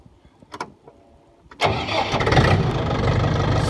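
Agriso 40hp tractor engine starting: a few quiet clicks and cranking knocks, then the motor catches abruptly and settles into a loud, steady, rough idle.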